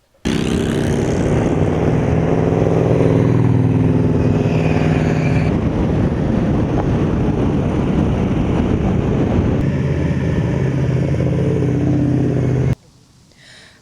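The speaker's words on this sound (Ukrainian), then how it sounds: "щойно я проїхалась на цьому ефектному байку" A striking motorcycle being ridden at a bike birthday event, with a steady, loud engine drone and heavy wind rush sustained for about twelve seconds before cutting off abruptly.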